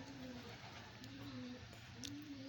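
Pigeons coo in low, repeated rolling calls under a constant background hiss and hum, with a faint voice in the background.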